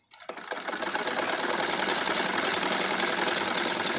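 A sewing machine stitches a salwar cut from warm fabric, its motor starting up and then running in a fast, even, loud whirring rattle that continues without pause.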